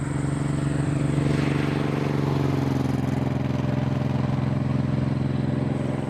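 Suzuki Boulevard M90 motorcycle with the clutch pulled in, revved a little: a steady, loud low engine drone with strong harmonics held throughout, no talking.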